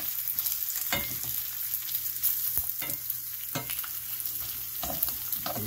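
Hot salami slices fry in a pan with a steady close sizzle, broken by several sharp scraping stirs and clatters spread across the clip, with no talking.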